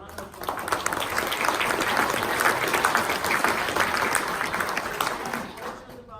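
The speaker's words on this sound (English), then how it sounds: "So, round of applause." A forum audience at a police department gathering breaks into applause, a dense wash of clapping that swells quickly, holds for several seconds, then tapers off.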